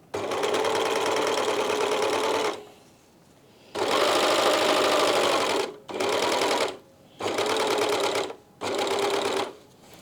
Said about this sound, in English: I'm going to begin with my overlocker.